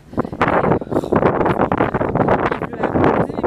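Strong wind gusting at a beach on a blustery June day, loud and continuous buffeting with roaring microphone rumble and no pauses.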